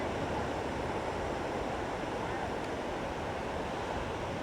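Steady, loud wind gusting across an overcast beach on the ocean at Long Beach, Washington, a dense broadband rush that buffets the microphone without pause and fully covers any surf or other detail.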